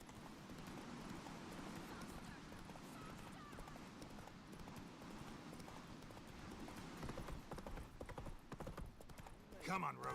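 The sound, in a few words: horse Roach galloping and neighing, from video game The Witcher 3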